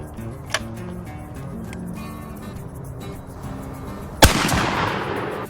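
A 12 gauge shotgun loaded with 3 1/2 inch heavy lead turkey shot fires one loud, sharp blast, and a short rolling echo follows over a quiet outdoor background with a fainter crack earlier.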